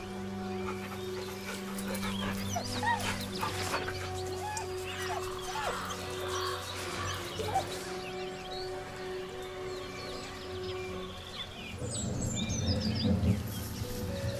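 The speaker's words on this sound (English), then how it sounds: "With a deep, heartbroken whine, the dog bows his head." Whining and whimpering from a dog named Scratch in Baldur's Gate 3, soft and drawn out over game ambience and background music, with bird-like chirps mixed in and a louder swell near the end.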